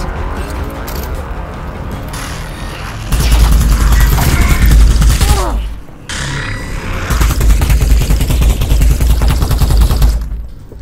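In Half-Life: Alyx, a towering Strider fires at the player in loud, sustained bursts of rapid gunfire with mechanical clatter, pausing briefly before the barrage resumes.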